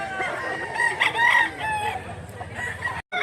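A gamecock stag crows close by in Mantalungon, Cebu, giving a drawn-out cock-a-doodle-doo with rising and falling tones over about two seconds, amid faint clucking and a quiet outdoor background.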